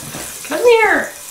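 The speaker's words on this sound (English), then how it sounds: "It's just water, dog." Tap water runs while a dog is bathed, a close, steady splashing rush under a brief voiced sound that rises and falls.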